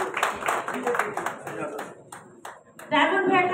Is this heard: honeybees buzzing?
no